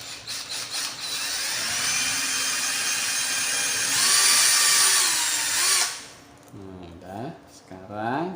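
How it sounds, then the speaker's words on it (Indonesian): A power drill bores a hole in the plastic case of a homemade USB 5-volt adaptor, whining loud and steady for about six seconds before stopping, after which someone speaks briefly. "kita bor aja ini"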